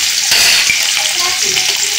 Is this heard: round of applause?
no